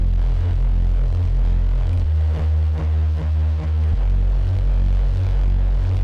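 A thick, buzzing Reese synth bass plays a repeating pattern of sustained notes, gritty and slightly wobbling, with a brief shift in tone midway as a granular effect is switched on.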